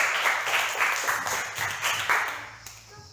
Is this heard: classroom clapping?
yes